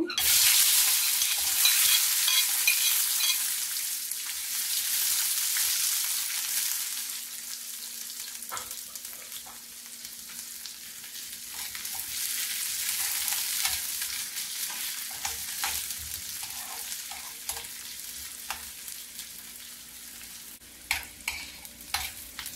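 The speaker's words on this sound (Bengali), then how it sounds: "পেঁয়াজ রসুন ভেজে নেব।" Onion and garlic fry in a pan for mashed chickpea bharta, a bright sizzle that is loudest at first and then settles into steady crackling, with scattered clinks of a stirring spoon.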